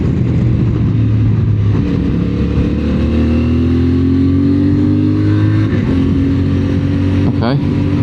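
CF Moto 450 MT motorcycle engine heard while riding, a loud continuous drone whose pitch falls and shifts as it drops down through gears, mixed with wind roar and a voice talking over it.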